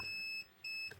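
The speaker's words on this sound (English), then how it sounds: "I'll put this in beeping mode again" Two steady electronic beeps from a multimeter continuity test on a laptop motherboard, each holding a pure high tone for a moment, separated by a short gap, clear and close against faint background hiss.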